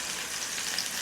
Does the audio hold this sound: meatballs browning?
yes